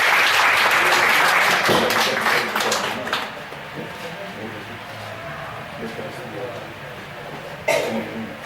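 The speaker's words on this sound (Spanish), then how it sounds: "Le damos otro buen aplauso al Señor." Church congregation bursts into applause at the end of a service, loud at first then fading into scattered claps, coughs and chatter.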